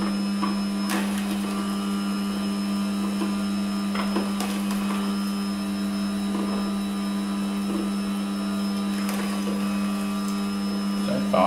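An electric meat mincer runs with a steady mechanical drone and strong low hum, while periodic knocks and thuds come as meat is loaded, close and continuous.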